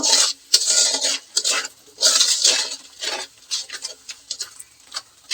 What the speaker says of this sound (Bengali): এরপরে আমি সিদ্ধ করে রাখা ছোলা ভুট্টা দিয়ে দিচ্ছি এই মশলার মধ্যে দিয়ে ভালো মতো কষিয়ে নেব